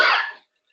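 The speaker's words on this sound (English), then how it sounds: "I cannot read this because I'm going to start coughing." A single short cough, close and fairly loud, fading out within half a second and followed by silence.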